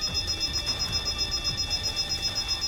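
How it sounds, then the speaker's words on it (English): Alarms blare in the Goddess of Victory: Nikke video game during a Code Red emergency with capsules overheating and catching fire. The alarm pulses in a steady, fast rhythm with high ringing tones above it, loud and sustained. "Amid blaring alarms and blazing red flames"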